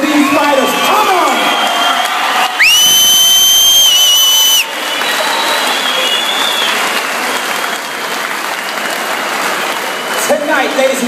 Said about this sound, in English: give a massive round of applause to these fighters